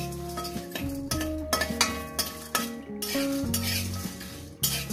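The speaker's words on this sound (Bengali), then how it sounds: "ভাজবো না, এইটা আমি শুকনো কাঠকড়ায় ফেলে ভেজে নেব।" Whole spices dry-roasting in an ungreased metal pan over a low gas flame for chicken curry, with a spatula stirring and scraping in repeated clinks and scrapes against the pan, close and alone.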